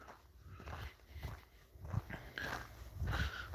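A pet dog moves about close by indoors in the evening, with soft padding steps, shuffling and small body noises. The sounds come in uneven bursts over a low background hum.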